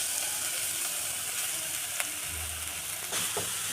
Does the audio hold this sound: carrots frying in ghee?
yes